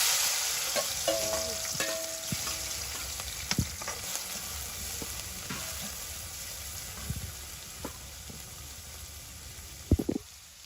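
Small isha fish fry in hot oil with chopped onion, a continuous crackling sizzle broken by a few sharp clacks of stirring, with no one talking.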